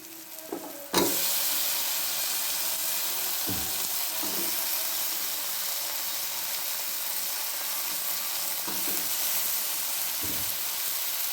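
Ridge gourd bhaji with potato and dried shrimp sizzles loudly in hot oil after a sudden start. The steady frying hiss carries on throughout, broken by occasional stirring clinks.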